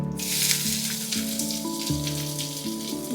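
Mustard seeds and chopped onion sizzling and crackling in hot oil in a home kitchen, a steady close frying hiss with tonal hum underneath and no talk.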